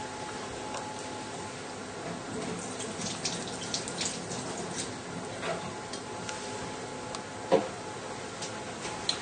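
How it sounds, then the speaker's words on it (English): Running tap water splashes steadily into a sink as hands are washed during a chunky chicken Kiev cook-along, a continuous close hiss with small clinks and one sharper knock near the end. "So you can go and just give your little hands a wash again"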